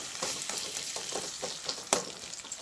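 Sweet pepper, thyme and scotch bonnet pepper fry in hot oil with a steady close crackling sizzle, broken by a few stirring scrapes and one sharper pop.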